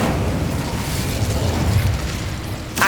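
Incendio fire spell cast in Hogwarts Legacy, a continuous roaring, crackling blast of flame that holds steady and loud for nearly three seconds before cutting off.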